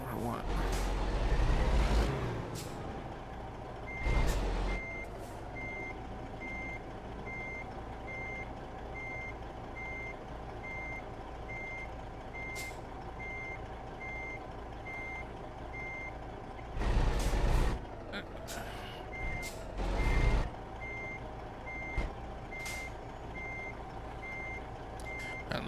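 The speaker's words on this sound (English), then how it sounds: "driving the truck straight." A truck in American Truck Simulator idles with a steady engine drone and a long run of regular reversing beeps, broken by occasional loud thumps and air-brake hisses; someone talks over it.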